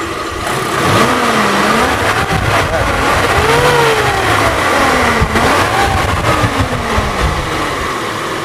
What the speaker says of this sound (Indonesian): Raungan kelihatan, udah kedengeran kalau mesinnya ini normal